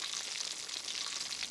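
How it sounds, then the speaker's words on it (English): Crusted snapper fillet searing in a hot pan with olive oil, a steady close sizzle of frying that holds even throughout, with no voices. "Then seared in a hot pan with olive oil and finished in the oven."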